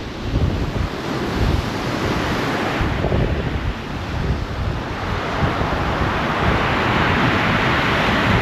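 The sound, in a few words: sea waves and wind at Folkestone coast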